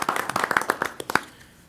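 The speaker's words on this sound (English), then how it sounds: "just a quick round of applause for those two, if we could." Short burst of applause from the audience at a village board meeting, a scattering of separate claps that peaks briefly and then fades out.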